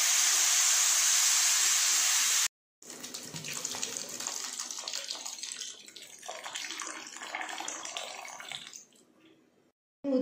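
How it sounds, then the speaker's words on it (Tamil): About 300 ml of water poured into a pot of drumstick and coconut milk curry, a loud steady rushing splash that stops briefly and then resumes as a softer, uneven pour before trailing off. "இப்போ கரெக்ட் பார்த்தீங்கன்னாக்கா நான் 300 ml தண்ணி ஊற்றிக்கிறேன்."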